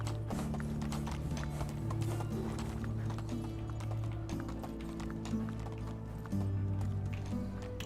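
Horse hooves clip-clop steadily in Medieval Dynasty as a mount travels at a constant rhythmic pace, the repeated footfalls layered over a sustained low musical drone with no voices.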